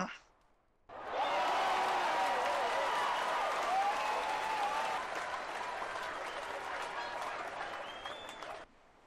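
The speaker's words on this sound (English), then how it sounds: "Let's give Mike a round of applause." A lecture audience breaks into full applause for the science fiction speaker, a dense, sustained clapping that starts abruptly after a moment of quiet, holds steady for about eight seconds, then cuts off.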